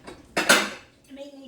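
A plate is pulled from a stack in a home kitchen while stuffed portabella mushrooms are being prepared, giving one sharp ceramic clatter followed by a fainter rattle.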